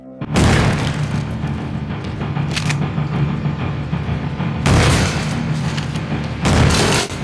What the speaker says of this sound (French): Notre directeur, fusil à la main, tire sur l'un des braqueurs.